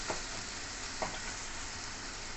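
A masala for paneer butter masala is stirred and fried in a pan, giving a quiet, steady sizzle with two soft scraping strokes of the spoon, close and without voices.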